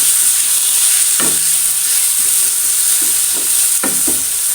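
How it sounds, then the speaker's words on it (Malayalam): Sliced tomato sautés in a pan for chicken pasta masala dosa filling, giving a loud, continuous close sizzle broken by a few soft scrapes and knocks of stirring. "ഞാൻ ഇതേപോലെ നന്നായി വാട്ടിയെടുക്കാം"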